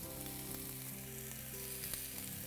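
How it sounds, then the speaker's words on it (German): Strips of paprika and parsley fry in a pan with a steady, dense sizzle and crackle throughout, close and even, with a few soft stirring clinks. "Ich brate nun die Paprikastreifen 2 Minuten an."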